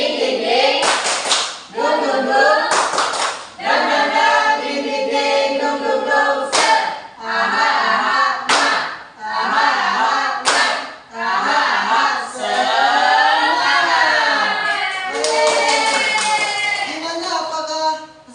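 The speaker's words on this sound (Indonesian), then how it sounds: "Oke, mulai Sabda. Tepuk semangat" A school class chants loudly in unison while clapping together in a steady rhythm, with sharp bursts of claps breaking up the chant.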